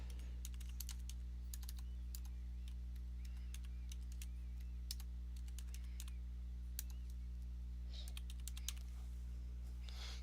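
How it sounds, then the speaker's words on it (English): Keys clattering on a computer keyboard as a command is entered in Windows PowerShell, with bursts of close, crisp clicks in quick runs and short pauses over a steady low hum, and no talking. "Now we're going to type in get service."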